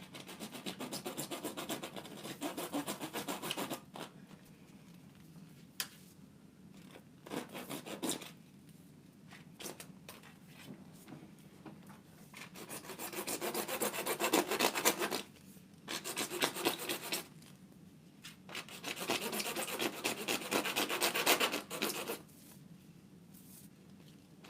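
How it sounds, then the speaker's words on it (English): A poor hand saw cuts through a length of PVC pipe in rasping back-and-forth strokes, close and fairly quiet, coming in bursts separated by short pauses and growing more vigorous toward the end. "we're using the world's worst saw for cutting PVC pipe"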